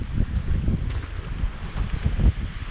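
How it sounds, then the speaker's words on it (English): Strong desert wind in Morocco buffets the microphone in low, rumbling gusts, rising and falling continuously. "It's windy, but it will be windy everywhere."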